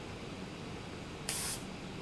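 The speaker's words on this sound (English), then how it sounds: "again, very nice, consistent spray." A single short burst of paint spray from a Gundam Marker airbrush, a bright steady hiss lasting about a quarter second against a quiet background.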